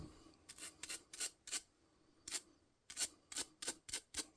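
A small brush scrubs .22 LR rifle parts during cleaning, giving quiet, quick bursts of bristly rasping in uneven groups with short pauses between strokes.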